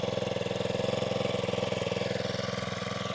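A 4-stroke post hole digger engine idles just after starting, a steady, close, rhythmic chugging rumble with even pulses and no talking.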